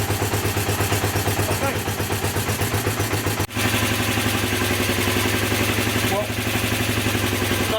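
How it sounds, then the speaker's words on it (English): A Honda CB250N Super motorcycle engine idles steadily after carburettor work, a loud, close, even tick-over with a brief dip partway through, while someone says a few words over it. "it's definitely the most stable tick over this bike's ever had"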